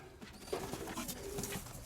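Pigeons in a loft giving soft, low cooing calls at close range, a few brief coos over a quiet, slightly noisy background.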